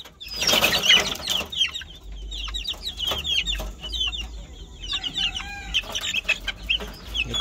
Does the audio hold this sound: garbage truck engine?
no